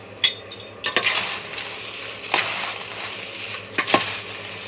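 Spices, including pepper powder and fennel seeds, are stirred together in a bowl for a homemade crispy snack mixture. A few sharp scraping clinks of a spoon stand out over a soft, steady mixing rustle, with no talking.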